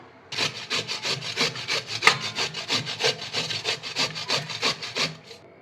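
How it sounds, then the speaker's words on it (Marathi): Fresh, washed and peeled radish is grated finely by hand, making a rapid, even series of about twenty close rasping strokes that stop near the end, with no voices. "मुळा आपण छान किसून घेतलेला आहे."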